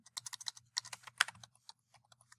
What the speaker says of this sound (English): typing it in my calculator